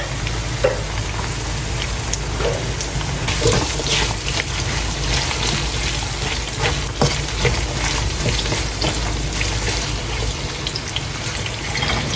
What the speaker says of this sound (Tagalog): ginisa na natin yung ating sibuyas, bawang at luya